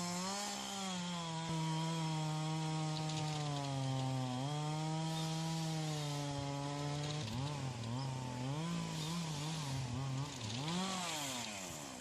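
A chainsaw fells large trees in a forest, its engine holding a loud, steady whine and then bogging and revving in uneven swells as it cuts, continuous with no voices.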